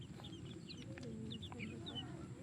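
Several backyard chickens cluck and chirp in short scattered calls over a steady low rural background hum, close and fairly quiet throughout.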